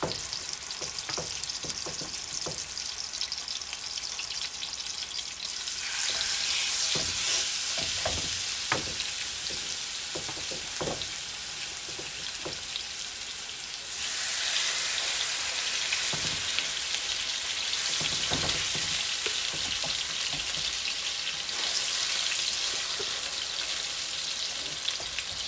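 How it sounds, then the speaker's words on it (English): Pork chops sizzle loudly in a hot pan for garlic wine pork chops, a steady crackling hiss that swells louder as more chops are laid down, with occasional clinks and pops. "You hear that sizzle?"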